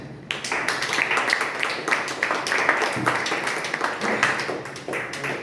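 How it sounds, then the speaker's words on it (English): A Toastmasters club meeting audience breaks into sustained applause, a dense steady patter of many hands clapping at moderate loudness for several seconds with a faint murmur underneath. "Let us all give a thunderous applause and invite Mr. Sundararaman."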